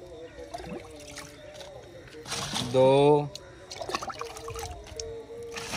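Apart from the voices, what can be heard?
glasses of water being poured into a tank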